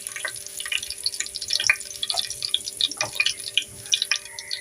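Cumin seeds and mustard seeds hitting hot oil for Maharashtrian misal, a steady close crackling sizzle with scattered sharp pops and spits throughout.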